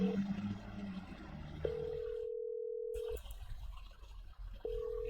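In a horror video game, a steady telephone dial tone hums while the player calls police, broken by a short silent gap and then resuming, fairly quiet over a faint background.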